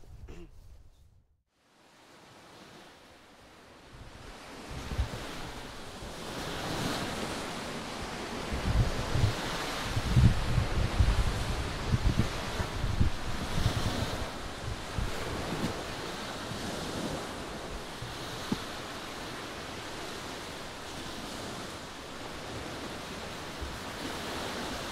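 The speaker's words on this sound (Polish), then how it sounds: "To już jest morze." Sea waves roll onto the shore in a steady, loud wash of surf, swelling and breaking repeatedly with wind buffeting the microphone, and no voices over it.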